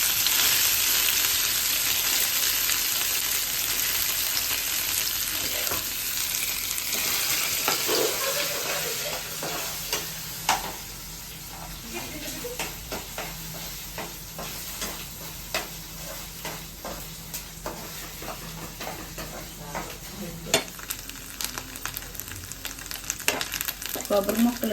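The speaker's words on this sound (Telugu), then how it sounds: "కొబ్బరి ముక్కలు వేగిపోతున్నాయండి." Coconut pieces frying in a pan for sweet pongal, a loud continuous sizzle that gradually quiets, with intermittent spatula clicks and scrapes stirring the pieces, close up and without speech.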